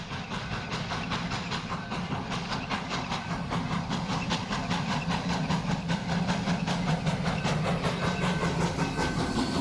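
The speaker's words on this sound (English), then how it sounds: "The train, well, it passes through this original tunnel" A tourist train rumbles steadily through an old blasted mining tunnel near Virginia City, with rhythmic clacking and hissing, a dense, echoing roar that stays constant and moderately loud.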